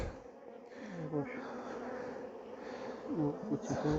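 A dense, continuous droning buzz of many honey bees in a hive during a spring inspection, close up, with a person's voice speaking over it at times.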